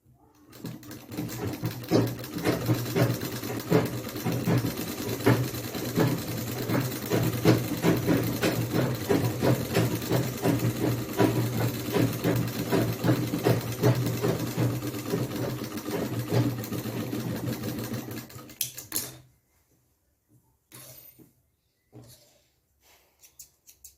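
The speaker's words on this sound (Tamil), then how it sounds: "3 தையல் அடித்தாச்சுங்களா?" A sewing machine stitches a pattiyala pant in a steady, fast mechanical whirr with rapid needle clatter, running continuously and fairly close for nearly twenty seconds before stopping, followed by a few faint handling clicks.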